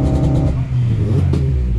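A Honda Civic EP3 engine revving to a little over 4,000 rpm just short of VTEC, a loud, close, sustained rasping drone with clattery edges that rises and holds.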